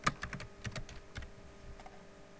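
A short note is typed on a computer keyboard in office document software, producing a quick run of light, close keystrokes that thin out toward the end, with no talking.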